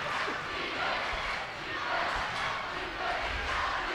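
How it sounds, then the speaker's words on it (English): A loud basketball crowd at a high school game roars and cheers in a continuous, dense wash of voices, steady throughout without clear breaks. "Wow, O&W crowd loud right now."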